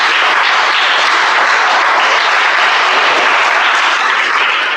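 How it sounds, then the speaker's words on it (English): A loud, dense burst of applause fills a club meeting room, many hands clapping together at a steady level from start to finish, with no talking. "Can we have a round of applause for them?"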